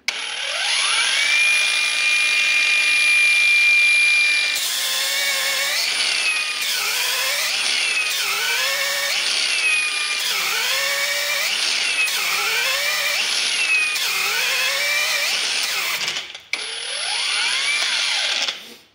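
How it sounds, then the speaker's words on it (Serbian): A Parkside Performance PWSAP 20-Li F6 cordless angle grinder runs at its first speed, a loud, close steady whine that dips and recovers repeatedly as the disc is pressed into the work, then stalls briefly and spins back up. "Mnogi ljude zanima, na primjer, brušenje u prvoj brzini, dokle mogu da pritisnu brusilicu dok nestane."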